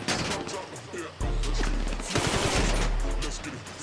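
Heavy gunfire in a GTA Online shoot-out: loud rapid automatic bursts and overlapping shots that continue throughout, with deep booming hits underneath and faint game voices mixed in.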